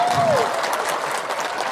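A crowd at an Islamic Santri Day gathering breaks into brief, dense applause, with a voice briefly audible at the start.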